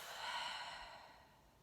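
A long, deep breath out follows a big inhale, one soft airy exhalation that starts fuller and fades over a second and a half, close and quiet.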